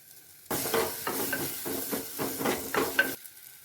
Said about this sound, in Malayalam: ഇനി നമ്മൾക്കിതിലേക്ക് കുറച്ച് കറിവേപ്പിലയും കൂടെ ഇതിലിടാം